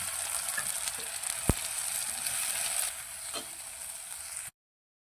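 Steady close-up sizzling of onions and tomatoes frying in a pan, a constant hiss with occasional faint clinks, no voices.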